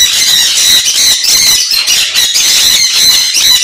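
Pet parrot-type birds such as conures, cockatiels and lovebirds at a breeding farm in Kolkata squawk loudly and continuously close by, a dense overlapping chorus of shrill, piercing calls.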